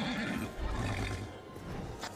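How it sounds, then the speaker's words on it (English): A horse in the action video game Darksiders lets out a loud, strained neigh that fills the short clip, rough and roaring in tone over game noise. "Oh my god, a horse."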